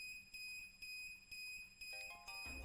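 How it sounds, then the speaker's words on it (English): Repeated electronic beeping from the Procyon device in the video game Root Double, a steady high tone with periodic pulses, faint and alone, ending in a short burst of other tones. "Watase's Procyon started beeping louder than he'd ever heard it before"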